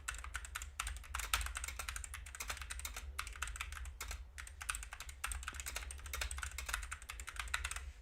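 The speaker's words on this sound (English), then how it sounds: "I'm in flow state typing." Rapid, steady typing on a computer keyboard during live futures day trading, dense continuous key clicks close to the microphone with no talking.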